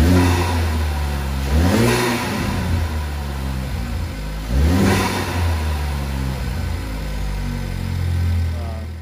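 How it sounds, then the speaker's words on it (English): A Ford Focus ST with the stock Mountune bypass valve, driven with the engine revving up and easing off in two clear surges, each followed by a quieter steady hum from inside the car. "I'm going to insert a clip where you can hear the stock or the Mountune bypass valve"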